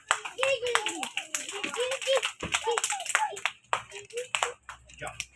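Children clap their hands at a school flower day event, scattered claps mixed with several children's voices and an adult speaking throughout, close and lively.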